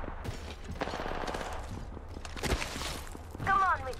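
Scattered gunshots and bursts of fire crack through an Apex Legends firefight, with brief talking and other game sounds mixed in.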